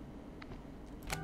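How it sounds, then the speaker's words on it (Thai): A camera shutter click in the horror game Dark Fracture, a brief mechanical snap near the end of a quiet, low ambient hum. "ฉันได้ยินเสียงเหมือนคาเมล่าชัตเตอร์เลย"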